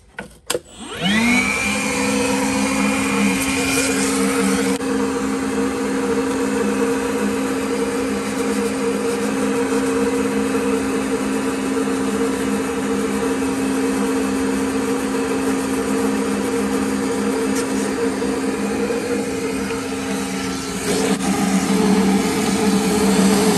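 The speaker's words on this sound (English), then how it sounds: "we can kind of vacuum and clean it like this at the same time" A vacuum cleaner runs continuously while cleaning a refrigerator condenser coil during troubleshooting of a fridge that is not cooling, a loud steady whine that holds for the whole stretch with a slight change in tone near the end.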